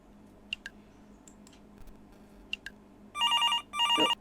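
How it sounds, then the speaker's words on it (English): A telephone rings for an incoming call in the video game Paradise Falls: two electronic trilling bursts follow a few scattered clicks and ticks in an otherwise quiet scene. "phone call"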